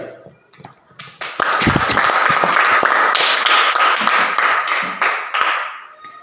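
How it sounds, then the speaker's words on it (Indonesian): A primary school classroom full of pupils bursts into sustained clapping after a quieter opening, the applause dense and steady for several seconds before tapering off. "Kita tepuk tangan dulu untuk pertanyaan dan jawaban dari setiap kelompok tadi."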